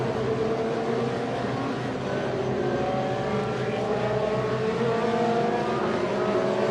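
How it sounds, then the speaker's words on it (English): FIA Formula 3 race cars drive the formation lap at Spielberg, their engines droning loudly and continuously with rising and falling revs as several cars pass together. "as the light goes green for the formation lap, and the cars released then."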